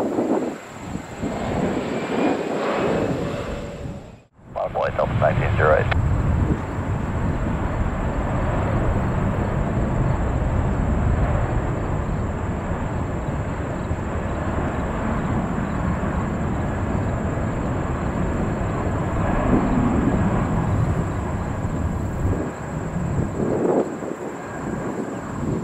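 Jet airliners land and taxi at JFK Airport: a loud, steady engine roar runs almost the whole time, with one brief dip near the start.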